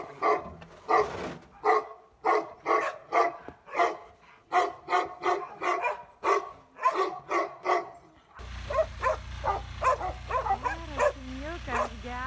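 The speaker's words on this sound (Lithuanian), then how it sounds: "Ai, geras šuo, geras šuo." A dog at a homestead with a sauna barks repeatedly in a rapid, uneven series of loud nearby barks and yips, with a person's voice mixed in toward the end.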